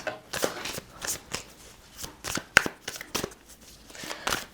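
Tarot cards shuffled by hand at close range, giving a string of quick, crisp riffling bursts in an uneven rhythm with short pauses between them.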